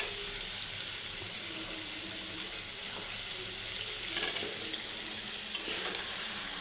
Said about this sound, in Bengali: আলু দিয়ে দেব এখন।